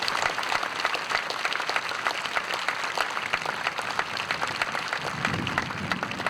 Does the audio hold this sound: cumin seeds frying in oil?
no